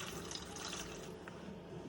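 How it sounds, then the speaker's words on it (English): Deionizer descaler poured into the water tank of a steam iron, a faint steady liquid trickle running continuously. "So I'll just pour some deionizer in there."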